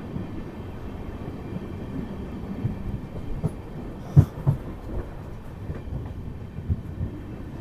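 The Sairang–Kolkata Express rolls slowly into a small station, a low steady rumble of wheels and carriages with a few clanks and knocks from the couplings, fairly close and without any voices.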